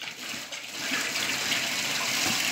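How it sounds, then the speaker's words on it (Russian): Water rushes and hisses into a polypropylene pipe during filling, a steady broadband gush that swells slightly after the first second and stays loud and close. "Пошел процесс наполнения трубы водой."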